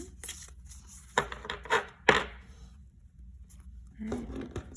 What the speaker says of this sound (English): Can you hear that? So it should shuffle well.